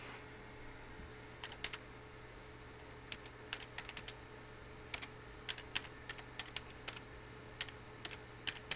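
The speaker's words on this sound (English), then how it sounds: "what I'm about to do is type in that I'm live." Bursts of computer keyboard typing, quick clusters of key clicks separated by short pauses, close and fairly quiet over a steady low hum.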